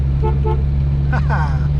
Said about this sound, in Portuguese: ó a buzina